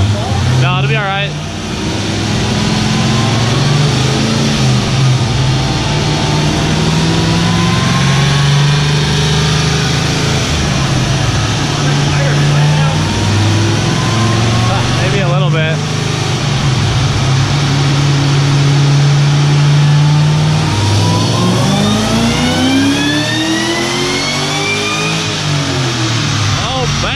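A Cadillac CTS-V fitted with a supercharged LSA engine runs on a dyno, a loud sustained roar climbing and falling through several rev sweeps, with voices talking over it.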